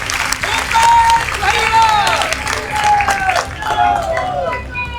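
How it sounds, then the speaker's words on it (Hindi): Crowd applause at a Kshatriya community rally in Sagar, a dense wash of clapping and cheering that fills the whole stretch, with whistles and voices rising above it. "तो जोरदार तालियां जरा भूपेंद्र सिंह जी के लिए हो जाए"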